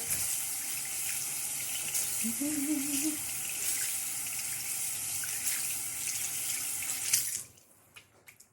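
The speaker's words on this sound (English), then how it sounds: "Now I'm going to go in with a lot of water again." Tap water running steadily while water is applied to 4C hair during styling, a continuous close splashing flow that stops abruptly near the end, leaving a few small drips and handling sounds.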